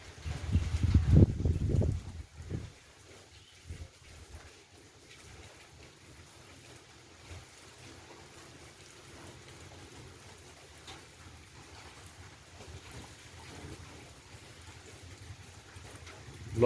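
Typhoon Noul's storm wind blowing through the night in northeast Thailand: a heavy buffeting gust at the start, then a long steady low roar with fluctuating rushes, no voices.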